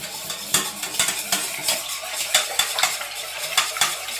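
Eggs and liquid ingredients for chebakia are whisked briskly in a bowl, with rhythmic utensil clicks against the dish repeating roughly every half second, close and moderately loud with no talking.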